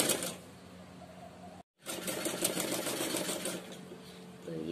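Domestic sewing machine stitching the sleeve of a hanky-cut baby frock, a close mechanical whir that pauses briefly and then runs on, with no voices.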